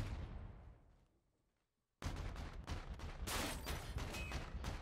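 Dense burst of video game gunfire in Call of Duty Infinite Warfare Search and Destroy, a 2v2 scrim on Scorch: a decaying shot for a moment, brief near-silence, then sustained loud rapid shooting.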